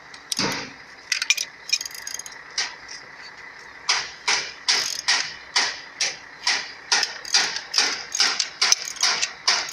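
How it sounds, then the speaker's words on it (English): A puller tool draws an engine cylinder sleeve out during a teardown, producing a series of sharp metallic clicks and ratcheting snaps that settle into a regular, close rhythm. "In this way, our instrument puller is working. Now sleeve is coming out."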